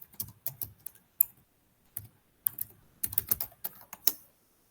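Keys tapped on a computer keyboard in short irregular bursts of clicks separated by brief pauses, close and fairly quiet with no voices.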